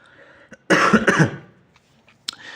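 A single close, harsh cough with a couple of rough bursts, followed by faint throat noises in a quiet room.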